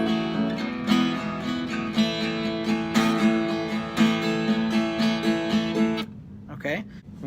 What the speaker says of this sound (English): this is the full chord version, so it's going to sound like this